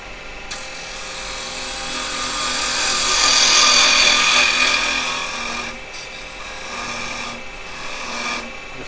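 Wooden mallet spinning on a lathe while carbide chisels scrape and shave it, a continuous close rasping hiss that swells louder in the middle and eases off toward the end.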